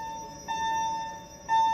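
A fire alarm sounds indoors with a steady electronic tone held continuously, a brief dip before it swells and grows louder near the end, no voices.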